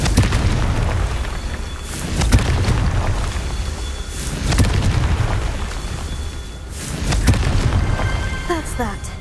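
A Confringo blasting spell explodes in the Hogwarts Legacy video game, giving deep, rumbling booms that swell and fade a few times over a steady low roar, with a few bright chiming tones near the end.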